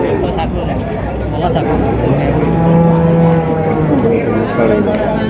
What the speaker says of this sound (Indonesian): Sapi PO di sini betina teman-teman.